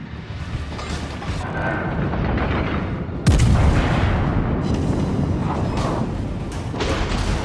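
Naval guns from the battleship Wyoming in World of Warships Legends fire over a constant loud roar of battle, with one heavy boom standing out midway, all close and dense.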